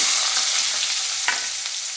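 Steady, loud sizzling of chopped onions frying in hot oil, with a brief stirring scrape partway through and no voices.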